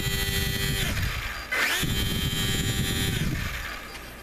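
An electric motor spins the propeller of a Guillows Bf109 RC model plane conversion, a loud steady whine that dips and spins back up midway, then eases down toward the end.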